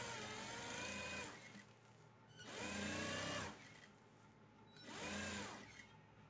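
A sewing machine runs three times in steady bursts, each about a second and a half, set to a long stitch length while joining a blouse lining, close and clear with quiet pauses between runs.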